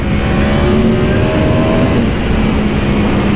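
A Yamaha R1 sport bike on Dunlop Sportmax Q4 tires runs on a race track, its engine a loud, steady drone held at high revs with faint rising tones, close and continuous throughout.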